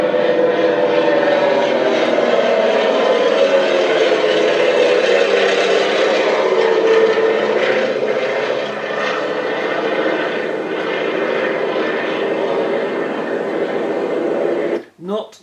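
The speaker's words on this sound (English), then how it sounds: "I mentioned the Avro Anson. Here it is, flying over my house." An Avro Anson propeller aircraft drones over a house, a loud and steady engine roar that slowly fades, with a sudden handling bump at the end.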